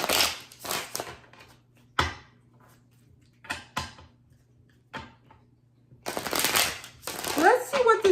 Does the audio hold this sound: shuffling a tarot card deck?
yes